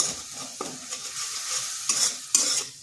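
Ground spice masala sautés in a pan with a splash of water while making aloo bomb, a potato snack: a soft, close sizzle broken by a few sharp stirring scrapes, with no voices.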